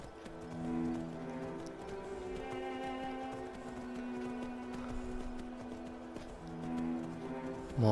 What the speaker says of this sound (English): Horse, keep running.